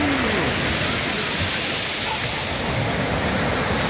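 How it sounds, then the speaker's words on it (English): Surf rolls in slowly on a beach at a Turkish seaside town, a loud, steady broadband wash with no clear breaks between waves. "the waves just come in slowly and bring you back to shore"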